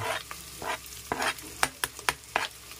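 Chopped ginger goes into a hot pan with softened onions and fries, giving a close sizzle broken by a string of sharp stirring and scraping clicks.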